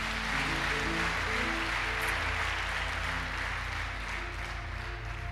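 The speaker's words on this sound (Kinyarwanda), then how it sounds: "Reka twongere kanoni amashyi menshi." A church congregation bursts into sustained, dense applause at the close of a prayer service, loud and steady from start to finish with no talking over it.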